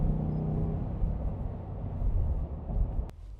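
A Ford F-350 with the 7.3L Godzilla V8 rumbles steadily under acceleration, a close, droning low engine note inside the cab, ending with a brief click.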